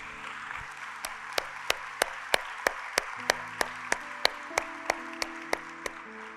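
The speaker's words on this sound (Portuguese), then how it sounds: "Pode aplaudir, irmão" A church congregation claps in a steady, evenly spaced rhythm of crisp, sharp beats about three per second, over a faint sustained musical tone.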